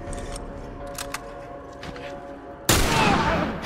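In The Last of Us, a sudden loud burst of gunfire breaks in near the end after a quiet stretch with faint clicks, decaying with a rushing tail.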